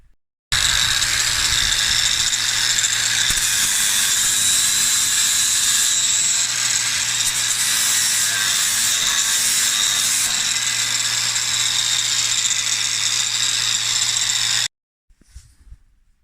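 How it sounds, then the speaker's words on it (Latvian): An angle grinder strips paint down to bare metal on a rural repair job in -20 C cold. Its loud, steady high-pitched whine and grinding run continuously for about fourteen seconds close by, then cut off abruptly with a brief rattle. "Un tagad visa tā vieta ar fleksi ir jāatbrīvo no krāsas līdz metālam, jānotīra."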